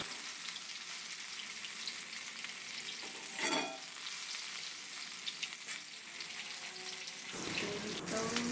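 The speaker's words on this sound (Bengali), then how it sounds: "আর এই যে পাশে আমি এদিকে আলু আর করলা ভাজি বসাইছি।" Potatoes and bitter gourd fry in a pan on a home stove, a steady close sizzle with occasional stirring scrapes running throughout.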